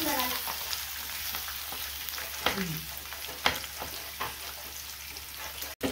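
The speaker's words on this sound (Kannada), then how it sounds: "ಇವಾಗ ಚೆನ್ನಾಗಿ ಫ್ರೈ ಮಾಡ್ತಾ ಇದ್ದೀನಿ." Onions fry with peanuts and curry leaves in a pan for mango rice, a continuous close sizzle with occasional stirring scrapes and clacks; no speech.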